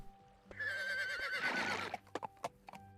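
A whinnying horse in the Kubifaktorium game: one long wavering neigh, loud and close, followed by a few sharp clip-clop hoof clicks in a quiet setting.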